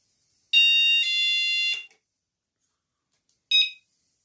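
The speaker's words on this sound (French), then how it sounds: "Si jamais vous enclenchez maintenant l'alarme, il y a une porte qui s'ouvre" A camper van alarm, triggered by an opening door, beeps shrill and loud for about a second, stops, then sounds once more in a brief burst, with silence between.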